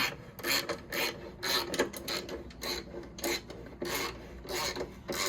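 A 3/8 ratchet with a hex bit tightens a nut on a saddlebag bracket on a Heritage Softail, giving repeated close rasping clicks in short bursts with brief pauses between strokes.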